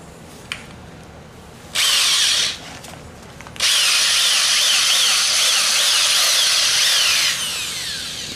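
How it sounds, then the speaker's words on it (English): A power drill bores drainage holes into a wooden log planter, with a short first burst, a pause, then a longer loud whining run that wavers in pitch as the bit cuts through the wood. "on the big side, we'll try to drill some holes through there."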